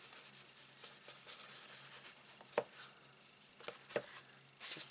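Paper glued onto a Stampin' Up! animal-themed 4x4 craft album is rubbed down by hand, giving soft, close scuffing and rubbing strokes with a few sharper brushing swipes.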